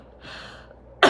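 A single sharp cough from a person recovering from a cold, bursting out loudly near the end after a stretch of quiet room noise.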